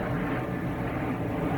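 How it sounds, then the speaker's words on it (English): Airplane passing overhead, a steady broad low roar that stays loud and unbroken through the brief moment, with no talking. "Sorry, plane."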